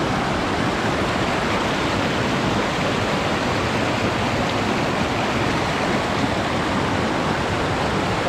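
A strong river current rushes over rocks along a rural riverside, a loud, steady broadband roar with no pauses throughout.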